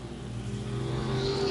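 Race car engines rev and build steadily at I-35 Speedway on the final lap, a loud close roar rising in pitch over a brief moment.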